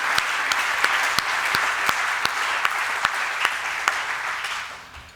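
Steady audience applause at a groundbreaking event for the Museum Reinhard Ernst in Wiesbaden, a dense wash of many hands clapping with a few sharper individual claps standing out, holding even for about five seconds before tapering off at the end.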